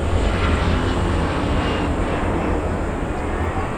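A passenger airliner on the Incheon to New York route drones steadily in flight, a loud, even engine roar with deep low rumble and no other sounds over it.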